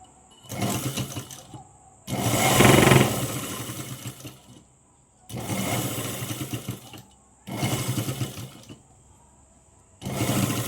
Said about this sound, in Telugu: ఇలా తీసేసుకొని దీని మీద ఒక కుట్టు వేసుకుంటున్నాను